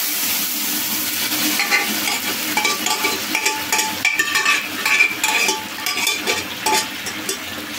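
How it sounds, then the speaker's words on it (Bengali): Bottle gourd and chickpea lentil vegetables being stirred in a frying pan, with a busy, close sizzle and rapid scraping and clinking of a spoon against the pan throughout, and no one speaking. "সবজিটা ঢেলে একটু নাড়িয়ে আমি নামাই ফেলবো।"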